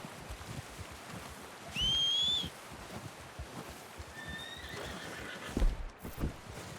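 Two horse whinnies in Red Dead Redemption 2 gameplay, a loud rising call near two seconds and a fainter one past four seconds. Soft hoof clops and rustling fill the background.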